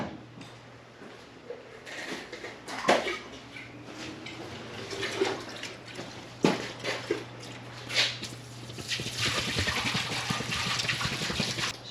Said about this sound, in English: So I'm going to go dump this water out.